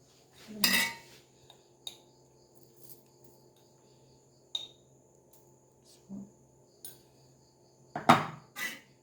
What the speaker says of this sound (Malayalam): ഇനി ഇതെല്ലാം കൂടി ഒന്ന് മിക്സാക്കാം